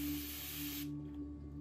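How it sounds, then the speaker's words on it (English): A continuous spray bottle mists water onto natural hair in one steady, close hiss for under a second, then stops abruptly. "And then we will go in with our continuous spray bottle."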